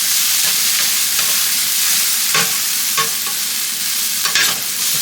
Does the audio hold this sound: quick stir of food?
yes